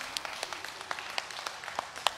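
A congregation at a healing service claps, fairly faint and a little distant, with scattered sharp hand claps rising from a soft steady bed of applause.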